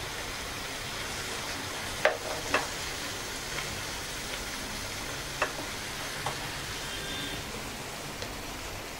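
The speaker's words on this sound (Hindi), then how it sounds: "अब इस ग्रेवी में बॉईल आ गया है" Gravy boiling in a pan for stuffed tomatoes with cottage cheese gives a faint, steady bubbling sizzle, broken by a few soft clicks and taps.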